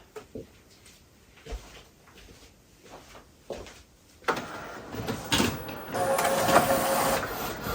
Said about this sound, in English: I'm just going to hit print